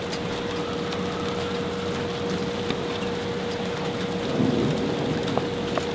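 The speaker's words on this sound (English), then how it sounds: "the rain is coming down hard." Heavy rain pours down hard in a continuous, dense hiss of drops striking surfaces, steady and enveloping throughout with no voices.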